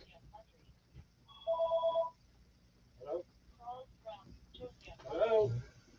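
A telephone rings once in a short electronic warbling burst, moderately loud indoors, followed by a voice speaking.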